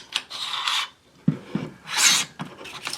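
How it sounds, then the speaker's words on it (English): Bolt and recoil assembly of a Grand Power Stribog SP9A3 9mm carbine sliding and scraping out of the receiver on a tabletop, a few close metallic rasping strokes with short pauses between them. "bring out our bolt and recoil assembly"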